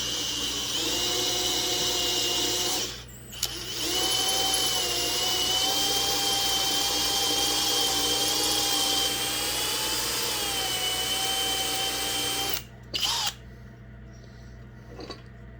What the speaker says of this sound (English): trying not to drill all the way through it if I can help it